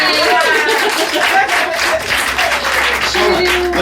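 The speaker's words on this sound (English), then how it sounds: "Give a big round of applause to Andy as he takes a seat." A live audience at a Q&A show gives a loud, full round of applause that holds steady throughout, with voices mixed into the clapping.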